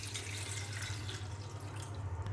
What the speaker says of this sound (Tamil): கொஞ்சம் தண்ணியை ஆட் பண்ணிக்கலாம்.